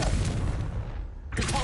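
A Confringo blasting spell fires in the video game Hogwarts Legacy, a dense booming burst that fills the moment, then dips briefly before a sharp new crackle near the end.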